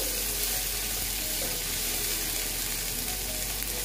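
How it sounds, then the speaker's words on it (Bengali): Chopped green chillies frying in a pan, giving a loud, continuous, close sizzle with a dense hiss that stays steady and unbroken throughout, with no voices. "দেখো কাঁচা লঙ্কা কুচি দিয়ে দিলাম। দিয়ে আবার আমি এটা এরকমই ভেজে নিচ্ছি।"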